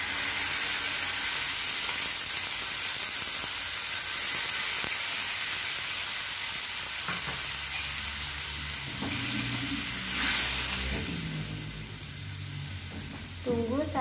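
Meat and tempeh simmer in a pan after broth is poured in, giving a steady close hiss and sizzle with occasional stirring, and a voice talks over it in the later part.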